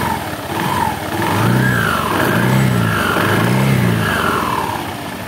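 A Honda Beat injection motorbike engine revs up and down three or four times in slow cycles over a steady idle, close and loud with no voices.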